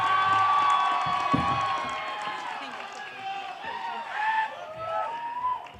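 A crowd at a College of Business university ceremony cheers and whoops, a broad roar of voices that swells and fades, with shouts rising near the end.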